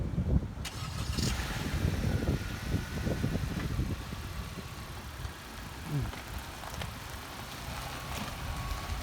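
A car engine idles steadily after being started and left running, a low continuous rumble heard close by with some handling noise at the start and no talk.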